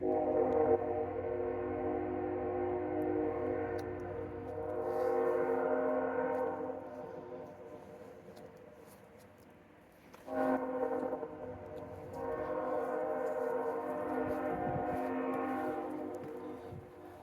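A train rolls past with long, loud blasts of its horn, two sustained sounding spells separated by a brief dip, heard with only rumbling outdoor background.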